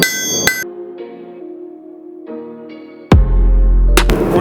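Hammering metal flat while forging a mini keychain knife: a couple of sharp ringing metallic strikes with lingering tonal decay, then a loud heavy impact near the end, close and without talk.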